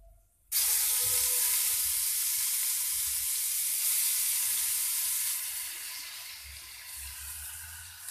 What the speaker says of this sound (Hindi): ये गार्लिक और ऑनियन का पेस्ट डाला है, इसको हम अब फ्राई कर लेंगे और भून लेंगे अच्छे से।